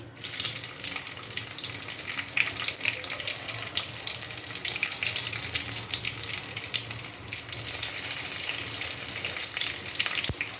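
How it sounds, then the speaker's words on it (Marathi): Garlic dropped into hot mustard seeds for mung bean usal, a dense, continuous close sizzle and crackle that holds steady throughout, with no talking. "आता मोहरी गरम झालेली आहे, आपण टाकणार आहे त्याच्यामध्ये लसूण"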